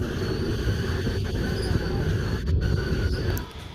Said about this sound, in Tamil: இப்போது வியாசர்பாடி ஜீவா கிட்ட நம்ம ட்ரெயின் நெருங்கியிருக்கு